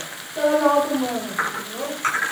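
Chicken keema sizzles and fries in a pan as chillies and chopped coriander go in, with a steady crackle and brief stirring bursts beneath a talking voice.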